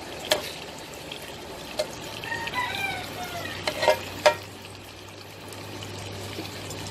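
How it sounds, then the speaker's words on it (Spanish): Chicken breast pieces cooking in a pan with a little fat over low heat, giving a soft steady sizzle with a few clinks and stirring scrapes of a utensil. "Ahora ahí vamos a echar a cocinar las pechugas. Con poquita grasa y a fuego lento."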